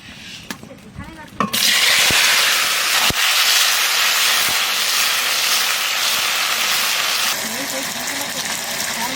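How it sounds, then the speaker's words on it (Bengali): Taro stems drop into hot fish-frying oil with a few clicks and a thump, then a loud, steady sizzling hiss takes over and carries on, easing slightly near the end. "মাছ ভাজার তেলের মধ্যে কচু ডুনো ভাজিয়ে নেবো।"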